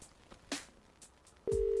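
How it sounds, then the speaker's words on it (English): A steady electronic telephone dial tone comes in near the end, after a few faint clicks and taps, holding evenly and fairly loud, in the video game Cat Detective Albert Wilde. "There's a dial tone."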